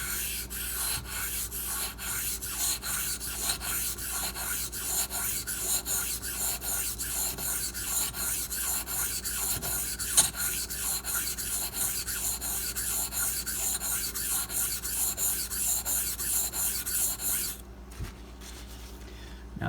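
A Ganzo FH51 knife blade being sharpened on a Razor Edge guided system, rhythmic back-and-forth stone strokes at a steady pace for most of the clip, stopping near the end, close and clear.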